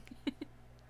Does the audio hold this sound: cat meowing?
yes